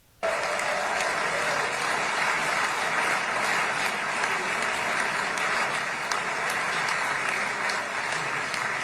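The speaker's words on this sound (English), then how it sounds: "everyone applaud my master up here" Applause from a large audience at a live event erupts abruptly and holds strong and steady for about eight seconds, a dense roar of clapping with no voices over it.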